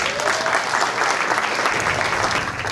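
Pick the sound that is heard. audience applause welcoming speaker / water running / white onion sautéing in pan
audience applause welcoming speaker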